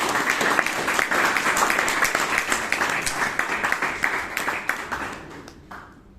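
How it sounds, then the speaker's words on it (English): A roomful of people at a Toastmasters club meeting in Bangalore clap together, a brisk crackle of individual claps that stays steady and then thins out and fades near the end. "please give Vaidyanathan a big round of applause"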